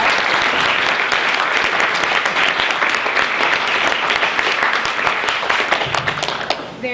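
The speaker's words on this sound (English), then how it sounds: "Everyone, a round of applause." A room full of people gives a family a round of applause, a dense, steady clapping that holds strong for several seconds and then thins and fades at the end.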